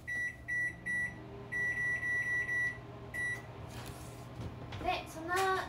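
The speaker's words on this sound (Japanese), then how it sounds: "さっき混ぜた卵、豆腐、ネギを電子レンジで500ワット5分チンします。" A microwave oven set to 500 watts to heat egg, tofu and green onion: a run of short, sharp electronic beeps over a steady low hum, then the oven drones on while a person talks.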